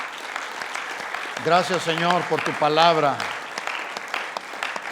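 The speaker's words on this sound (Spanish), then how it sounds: "Dale un aplauso de alabanza a Jesús." Church congregation claps in praise to Jesus at the close of a service, a steady wash of clapping running through the whole stretch while a voice speaks over it in the middle.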